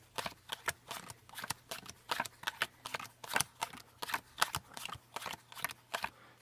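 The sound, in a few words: playing cards being dealt into five piles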